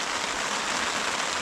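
Constant rain hisses and patters on water and gear during an autumn fishing outing on the Kaunas Reservoir, dense and unbroken.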